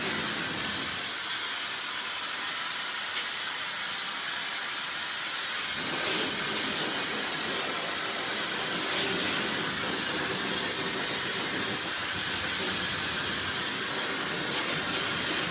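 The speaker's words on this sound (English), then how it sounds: "I'm sort of loosely drying the hair without the nozzle initially." A hair dryer blows steadily on short hair with no nozzle attached, a continuous close, loud airy whoosh that grows slightly fuller partway through and runs without a break.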